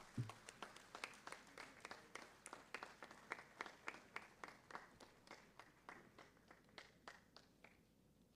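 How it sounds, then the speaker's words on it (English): Audience applause at a mining industry conference, a fairly sparse and quiet round of separate claps. The claps come in an irregular rhythm and sound somewhat distant. They continue for about eight seconds with no voices over them. "Ladies and gentlemen, please give a huge round of applause."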